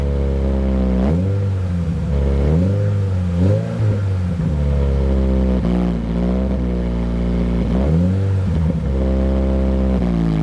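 A 2024 Toyota GR86 sports coupe engine revs repeatedly through its exhaust, rising and falling in several sharp blips over a low rumbling base, loud and close with no talking.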